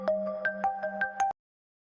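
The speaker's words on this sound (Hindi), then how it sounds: "पता नहीं किसकी जरूरी कॉल होगी। जा जल्दी से लेकर आ।" A mobile phone ringtone plays a bright, close melodic tune of six quick repeating notes, then cuts off abruptly into silence.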